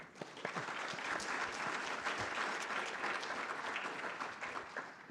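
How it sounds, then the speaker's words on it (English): An audience gives a round of applause at a campus talk, with a full, even wash of clapping that stays steady for about five seconds and is heard alone, without speech. "I just want to give a round of applause."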